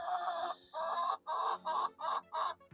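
Chickens cluck at a backyard coop, six or so rapid, close bursts in an uneven rhythm, loud and clear with no talking.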